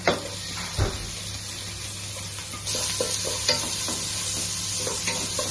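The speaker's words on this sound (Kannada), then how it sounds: "ಈಗ ನೀವು ಚೆನ್ನಾಗಿ ಫ್ರೈ ಮಾಡ್ತಾ ಹೋಗ್ಬೇಕು. ಈರುಳ್ಳಿ ಚೆನ್ನಾಗಿ ಫ್ರೈ ಆಯ್ತು." Onion and garlic sizzle in a pan of hot oil for dal tadka, a steady crackling hiss broken by occasional scrapes of a spatula stirring, with no talking.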